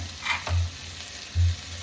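Crushed garlic and ginger frying in oil for a chicken curry, giving a steady soft sizzle with two brief louder bursts of hissing, close by and with no voices.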